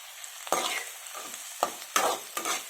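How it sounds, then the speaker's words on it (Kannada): Carrots, beans and potatoes fry in oil on a tawa, a loud hissing sizzle that swells with each of several quick stirring scrapes. "ಸ್ವಲ್ಪ ಫ್ರೈ ಆಗಲಿ ನೋಡಿ ಎರಡು ನಿಮಿಷ ಫ್ರೈ ಆಗಿದೆ"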